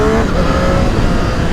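A 2020 Triumph Street Triple RS motorcycle engine revs at high RPM, a loud, close, sustained engine roar with a steady pitch over the whole short stretch.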